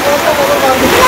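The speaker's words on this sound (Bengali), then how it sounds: "যে বৃষ্টি নামছে একদম অবস্থা খারাপ" Heavy rain pours steadily over a village market, a dense continuous wash close by, with voices talking underneath it.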